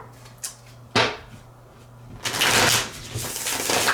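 A Teeny Tiny Tarot card deck handled and shuffled up close, two sharp isolated snaps and then a sustained riffling burst of cards, loud against a quiet room.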